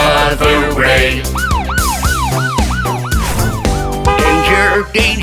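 A cartoon police car siren wails in a fast, repeating rising-and-falling pattern, loud and up front, over busy animated music and sound effects with no talking.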